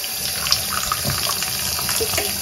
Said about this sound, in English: So now I'm just gonna give this a little rinse through.